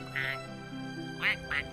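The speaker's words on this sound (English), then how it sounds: "The duck." A duck in the tank battle game World of Tanks quacks three times, clear and fairly close, over a steady tonal musical backdrop.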